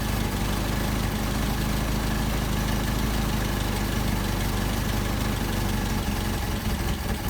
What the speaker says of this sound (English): I'll dial it in too far and you'll hear the engine stumble.